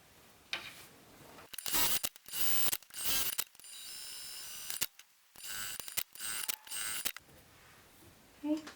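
A sewing machine runs in short bursts, top stitching a bi-fold wallet, with rapid mechanical stitching separated by brief pauses and small clicks, close and moderately loud.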